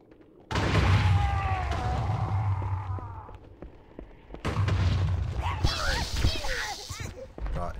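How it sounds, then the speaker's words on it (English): Explosions in the video game Halo come as two heavy booming blasts a few seconds apart, each followed by rumbling, crackling debris and battle noise. "And watch the explosions go."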